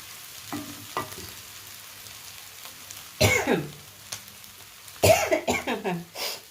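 Pieces of egg yolk frying in a pan, with soft sizzling and several sharp bursts of spattering and stirring scrapes over a quiet crackle.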